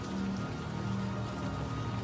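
Steady rain falls in the Unavowed adventure game, a continuous soft hiss of drops spread evenly over a low background hum, moderately loud and unbroken throughout with no voices.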